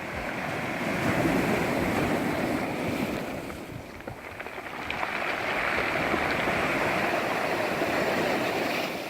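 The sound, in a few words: sea waves on rocky shore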